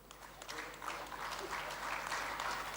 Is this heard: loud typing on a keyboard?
no